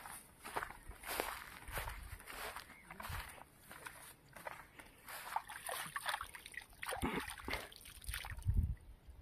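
Irrigation water from a solar-powered tube well with a plate turbine, running along an open field channel. It makes a steady splashing, sloshing flow close by, with scattered louder splashes and faint movement nearby.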